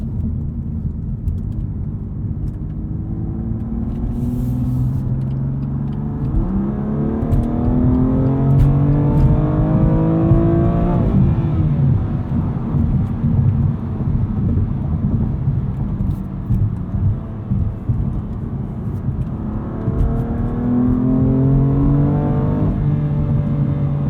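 A 2020 BMW M2 Competition engine accelerating hard in Sport Plus mode with aggressive shifting, the loud interior drone climbing in pitch through the gears with brief drops at each upshift, continuous and uninterrupted.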